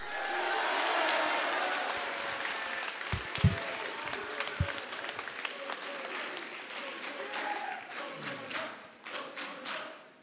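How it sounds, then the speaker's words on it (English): Loud crowd applause with scattered cheers and a few heavy thumps celebrates the Fenwick High School state champion cross country team at a school gathering, the clapping sustained throughout and easing toward the end. "One more round of applause for them, please."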